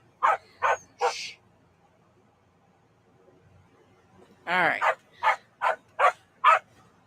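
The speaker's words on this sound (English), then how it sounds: "I cannot focus with him barking, so let him in or shut the door." A dog barks in two bursts, first three sharp barks close by, then after a quiet gap a run of five or six loud barks at a steady pace, with a brief spoken remark mixed in.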